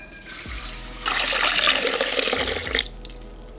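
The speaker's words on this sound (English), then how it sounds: "We have about 2 cups of warm milk, so warm your milk, and we're just gonna pour this in here." About two cups of warm milk poured into a mixing bowl for homemade dinner rolls, a steady close liquid stream splashing for nearly two seconds before stopping, heard alone.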